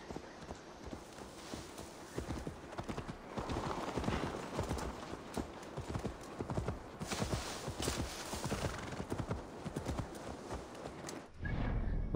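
A horse gallops steadily in Assassin's Creed Valhalla, dense repeated hoofbeats with an occasional whinny over game ambience, ending in a sudden louder shift of sound, no voices.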